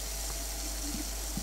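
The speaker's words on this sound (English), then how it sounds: "Turn the sink on." Sink tap running in a bathroom in the video game Prey, a steady, close rush of water with a faint low hum beneath, no talking.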